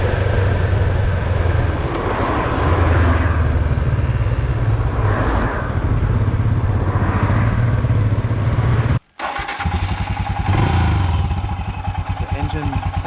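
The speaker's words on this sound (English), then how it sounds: "The engine sounds way more low than mine." A Royal Enfield Himalayan motorcycle engine runs steadily and loud for most of the clip, with a low rumble that drops out briefly near the end before resuming.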